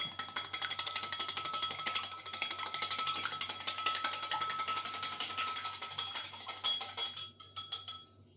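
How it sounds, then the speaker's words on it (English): Egg being whisked with a fork or whisk in a bowl, a rapid, steady rhythmic clicking and scraping close up that runs for several seconds, then slows and stops. "And whisk this egg."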